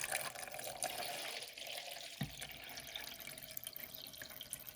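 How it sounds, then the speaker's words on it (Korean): Tap water pours into a Brita filter pitcher in a home kitchen, a steady close splashing stream with a brief knock partway through, quiet and without talk. "이제 이거 수돗물 받아왔어요 여기에 자 부어, 부어가지고 정수가 되는지 한번 보겠습니다"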